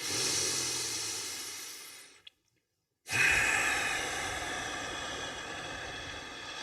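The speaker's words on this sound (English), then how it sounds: "Okay, take a big breath in." A person doing breathwork takes a long, deep breath, with a loud, rushing airy hiss that fades out, a second of silence, then another strong, sustained breath that continues steadily to the end.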